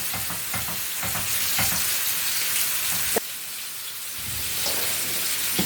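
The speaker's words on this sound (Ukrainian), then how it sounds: "Додаємо моркву. І просмажуємо ще з морквою, щоб нам морква зм'якла, звісно." Onion and carrots sizzling in a frying pan, a steady bright crackle interrupted by repeated scraping stirs of a utensil, close and fairly quiet.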